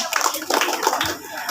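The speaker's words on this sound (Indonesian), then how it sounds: "kita beri aplaus yang meriah kepada tim finalis" An audience at a school science quiz competition (lomba cerdas cermat IPA) applauds the finalist team with a short burst of dense clapping, fairly near, with a voice faintly under it.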